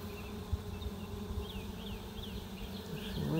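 A steady, dense buzz of wild honey bees from a caught swarm hums continuously over low background rumble, with a few brief higher chirps drifting across; close and fairly even throughout.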